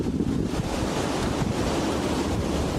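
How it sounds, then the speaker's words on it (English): Wind blows outdoors in a steady, loud, rushing roar with heavy buffeting against the microphone, and no voice is audible. "the wind is picking up again"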